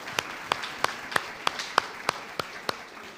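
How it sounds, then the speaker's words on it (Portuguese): A single person claps slowly and evenly in a church during a Portuguese-language sermon, about ten sharp, distinct claps spaced roughly a third of a second apart. "Agora eu posso aplaudir."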